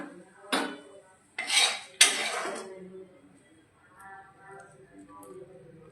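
A metal spoon scrapes cooked, oily food from a pan into a bowl in three loud, clattering strokes, followed by quieter clinks and someone speaking softly.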